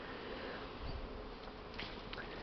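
Honeybees streaming out of a hive on a winter cleansing flight outdoors, a steady close buzzing drone of many insects with individual bees passing near, no talking.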